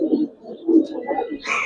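Giribaz and coloured pigeons in a loft coo in soft, low bursts, close by, with a brief brighter rustle at the end.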